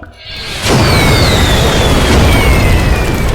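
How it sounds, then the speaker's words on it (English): Fireworks going off in the video game Together in Battle: a sudden loud boom at about 0.7 seconds swells into a sustained crackling, rumbling roar with faint whistling streaks that holds to the end. "Oh, fireworks."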